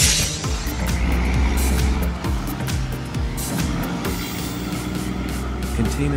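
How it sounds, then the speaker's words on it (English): A container truck drives along a road, its engine a steady, fairly loud drone with low rumble throughout and brief air-brake-like hisses mixed in. "Container trucks are high-capacity road vehicles used to transport containers of goods"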